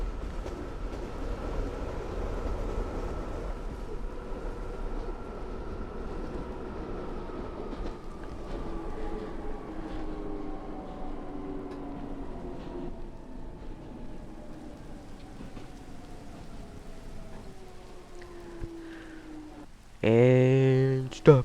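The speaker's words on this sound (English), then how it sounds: "stop the train" A Minecraft train rolls along its rails with a steady low rumble and a slowly falling tone as it decelerates, ending in a brief louder clatter.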